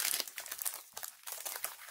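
Magic JumpStart booster pack wrappers crinkling and tearing open up close, a continuous run of sharp plastic rustles and crackles in irregular bursts with no talking.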